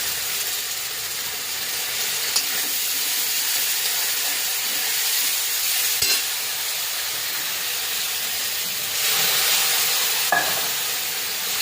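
Poppy seed, cumin and chilli paste frying in a pan for a prawn poppy-seed curry, a loud, steady sizzling hiss with occasional faint scrapes of stirring, no voices.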